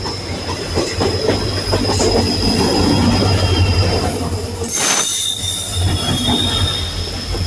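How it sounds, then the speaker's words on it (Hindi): A short two-car train passing close along a railway line near Dudhsagar waterfall in Goa, loud continuous rolling rumble with squealing wheels and rhythmic clatter over the rails. "ट्रेन आ रही है।"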